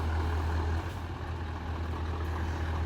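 A Scania truck engine with upgraded turbo and injectors runs close by, a loud, steady low rumble with a constant deep drone and dense roar held throughout the short stretch.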